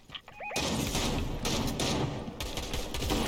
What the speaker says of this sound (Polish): Strzela jakieś pociski.